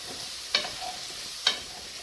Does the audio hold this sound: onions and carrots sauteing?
yes